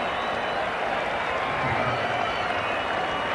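Cricket crowd at a South Africa versus West Indies Test match roaring steadily with cheers and applause after a big hit, a dense, sustained wash of noise with no clear breaks.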